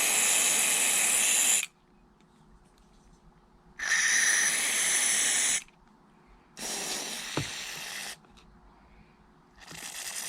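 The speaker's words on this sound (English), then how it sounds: "I'm going to spray it where the pinhole is." Three long hissing bursts of aerosol cleaner sprayed onto an AR-15 bolt, close and loud, separated by brief quiet gaps, with a faint metallic tap during the third.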